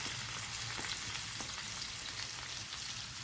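Sliced onion sizzles steadily in hot oil left over from frying chicken for a chicken roast, a continuous close crackle with scattered pops and no voices.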